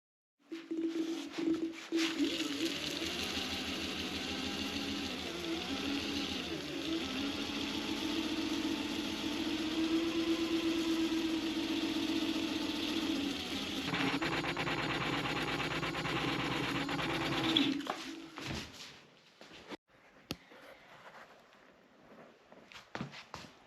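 Caroma electric scooter motor ridden indoors and spun in a burnout, a steady whirring drone lasting most of the stretch with small pitch swings, then cutting off into near silence.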